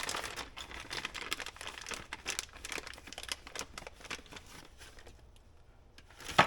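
Plastic packaging of a multi-mount camera accessory pack crinkles and rustles steadily up close as it is opened and handled, settling to quieter handling before a final sharp rustle.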